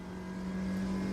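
Manual-transmission car driving, steady engine drone with a strong low hum throughout, sounding like a nimble Miata-like roadster heard from inside the cabin at constant moderate load.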